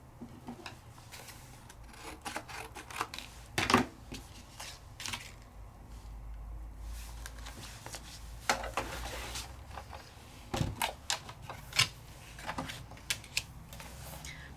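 A die cutting machine runs paper through shaker dies, giving a series of faint scraping rubs and a few sharp clicks and clunks spread irregularly across a quiet room.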